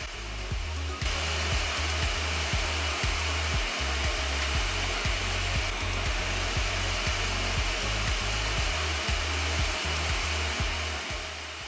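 A hot air rework station set to 400 °C and 80% airflow heats the metal shield on an iPhone 11 Pro logic board, giving a loud, steady rushing hiss with a low rumble and no pauses.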